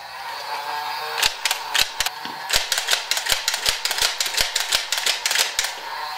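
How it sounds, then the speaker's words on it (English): A Nerf Barricade revolver blaster fires in a quick series of sharp, close mechanical clacks, roughly a dozen snapping shots in an irregular rapid rhythm over a faint background hiss, with no talking. "Now I'm gonna shoot the Barricade."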